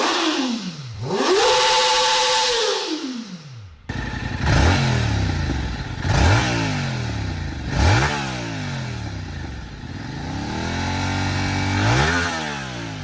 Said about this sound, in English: Let's also have a listen to the stock exhausts of each.